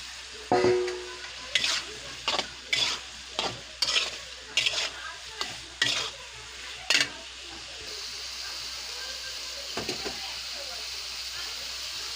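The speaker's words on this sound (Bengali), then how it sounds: "মশলাটা ভালো করে কষিয়ে নিয়ে এখন বেগুন কাটা দিয়ে দিলাম।" Cut eggplant frying in spice masala in a pan, with a series of sharp stirring scrapes and bursts over a steady sizzle, settling into a quieter continuous hiss near the end.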